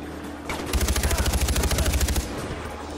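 Automatic gunfire in the PC game Far Cry 4: a loud, rapid burst of about twenty evenly spaced shots lasting roughly a second and a half, then a brief fading tail.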